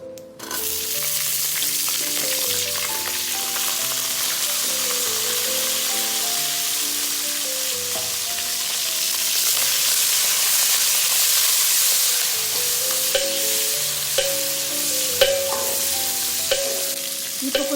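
Green chillies frying in hot oil with asafoetida, a steady loud sizzle and hiss that runs unbroken throughout, with faint stirring clatter mixed in.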